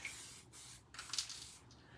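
Aerosol spray paint hisses in short bursts with brief pauses between them, soft and nearby.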